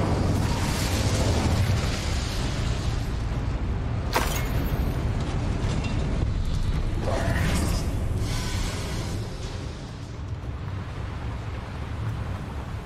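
A fire spell cast in the video game Hogwarts Legacy, a sharp burst flaring up at about four seconds and a second whooshing flare near seven, over a steady loud rumbling game ambience.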